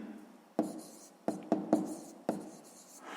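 Pen writing numbers by hand during a sixth-grade maths exercise, a few short scratchy strokes and taps close up, separated by quiet pauses.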